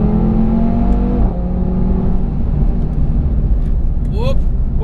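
Audi TT RS Coupe with quattro all-wheel drive on a race track: a loud, steady engine drone and road roar under throttle, pitch shifting, with a brief tyre squeal near the end.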